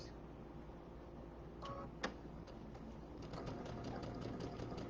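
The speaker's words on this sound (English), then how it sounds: "And I'm going to sew my 1/4 inch seam." A sewing machine stitches a quarter-inch seam through quilt fabric, a soft, fast, steady mechanical whirr with a few small clicks, close by and fairly quiet.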